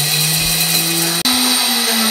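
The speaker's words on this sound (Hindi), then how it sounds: "सब चीजें हमने अच्छे तरीके से ग्राइंड कर ली, पावरफुल मशीन, पाउडर बना दिया।" An electric grinder whirs loudly and steadily, grinding browned onion and spices into powder. Its pitch jumps briefly partway through as the motor surges, heard close up with no speech.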